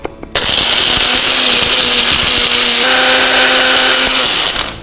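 A kitchen mixer grinder runs steadily, powdering neem resin and camphor with a loud continuous whir that shifts pitch slightly partway through, then stops abruptly at the end.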